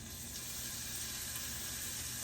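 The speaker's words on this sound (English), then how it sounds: "So we're gonna add our chicken into our hot cast iron pan." Pieces of chicken breast for fajitas hit a hot cast iron pan, producing a steady, loud, broadband sizzle that holds unbroken for a couple of seconds with no talking.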